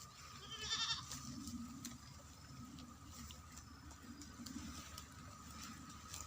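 A goat bleats once faintly in the distance, then quiet outdoor ambience continues with soft rustling.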